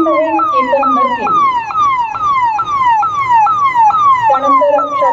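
A fire brigade vehicle's siren during a flag-hoisting parade at a police headquarters in Pune, loud and close, wailing in fast repeating rising-falling sweeps over a low engine rumble.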